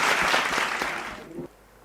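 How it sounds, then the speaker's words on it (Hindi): A seminar audience gives a short burst of applause that fades and stops abruptly, heard briefly with no voices over it. "जोरदार तालियां हो जाए"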